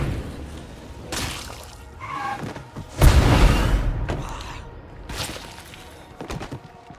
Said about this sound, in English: it looked like the explosion killing the bloater collateral the juggernaut